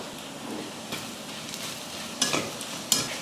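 Dried fish crisp-frying in a pan with chili powder, giving a steady hiss and crackle with a couple of sharper stir scrapes near the end, no voices.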